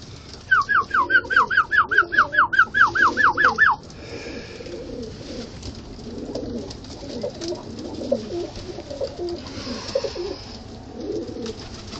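Pigeons kept for flying coo near the loft as grit is put down, a clear run of rhythmic cooing calls at first, then softer rustling and faint background sounds.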